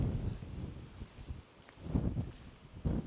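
Wind gusts buffet the microphone on a high ridge in West Virginia's Monongahela National Forest highlands during a bike tour, rising and falling in uneven rumbling bursts with no voices.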